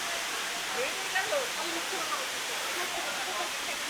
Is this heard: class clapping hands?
no